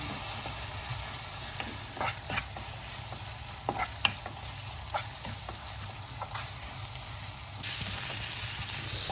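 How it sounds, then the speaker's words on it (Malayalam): Ground masala paste for egg curry fries and sizzles steadily in a pan, with intermittent stirring scrapes and clinks over a constant crackling bed, no talking. "ഈ അരച്ച് വെച്ചിരിക്കുന്ന അരപ്പ് അങ്ങോട്ട് ചേർത്ത് കൊടുക്കാം. ചേർത്ത് നന്നായിട്ട് ഈ അരപ്പ് മൂപ്പിക്കണം."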